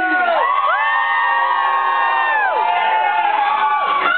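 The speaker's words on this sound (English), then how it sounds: "Now somebody, anybody, everybody scream!" A live crowd at a Greenville College dance crew show screams, cheers and whoops loudly and steadily, with shrill sustained yells rising and falling over a dense roar of voices.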